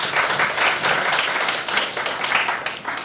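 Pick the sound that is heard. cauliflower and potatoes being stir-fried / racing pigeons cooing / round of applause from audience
round of applause from audience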